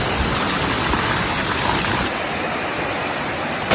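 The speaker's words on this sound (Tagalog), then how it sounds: "gitawag siyang Bamboo Falls" Bamboo Falls, a waterfall at Kasilak, New Cortez, New Corella in Davao del Norte, pours with a loud, steady broadband rush that stays dense and unbroken throughout, close by and alone.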